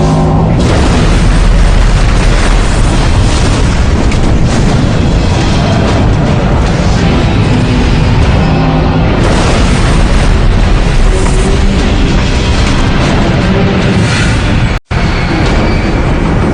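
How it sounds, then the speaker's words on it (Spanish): A massive explosion tears through the hull of the battleship Bismarck, a continuous loud, dense roar of blasts and rumbling that fills the whole stretch with only a brief cut near the end. "Una explosión en el casco hace que el poderoso barco se doble y estalle."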